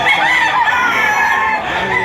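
Imported breed roosters crow in a loud, continuous call lasting the full couple of seconds, with no talk over it.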